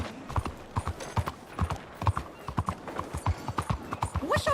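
Hooves of a horse clip-clopping in the video game Red Dead Redemption 2, loud, close, evenly paced strikes of a walking gait, with a brief whinny-like call near the end.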